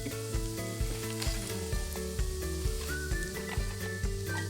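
Chopped ginger root sautéing in a reheated pan over low heat: a light, steady sizzle under prominent melodic background music with plucked notes and chords, and no voices.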